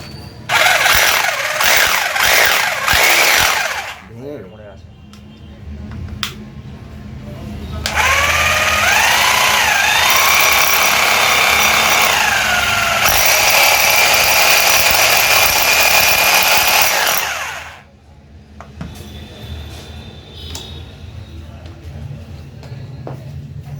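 A 2-26 mm hammer drill under repair for a bit-locking fault runs in loud, sustained whining bursts during testing, stopping and restarting several times with quieter workshop gaps between runs.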